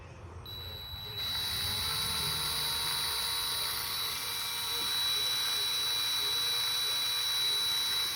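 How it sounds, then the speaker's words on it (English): A power drill whines steadily after starting up, spinning a warped Kawasaki KX250F camshaft with a high, constant tonal hum, fairly close. "shoot a little video of this running and spinning in the drill"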